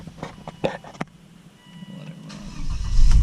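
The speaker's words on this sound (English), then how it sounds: "Let's turn the car on." A rebuilt salvage car is started: a few clicks and clunks, a brief pause, then the engine turns over and settles into a rising, steady idle close by.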